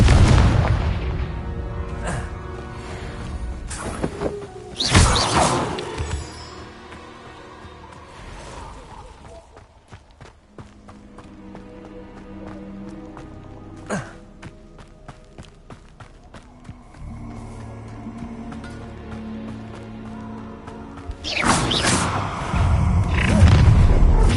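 Confringo fire-blast spell explosions in the game Hogwarts Legacy, heavy booming bursts near the start and again at the close, with quieter thuds, footsteps and rumbling combat sounds between.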